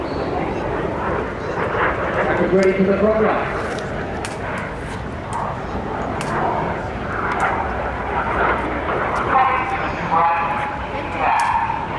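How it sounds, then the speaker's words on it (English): Red Arrows jets fly an aerobatic display at Bournemouth in 2016, their engines a continuous rushing roar, partly masked by a commentator talking over the sound, with a dog barking now and then. "The pit jet is now going to roll around them a dozen times."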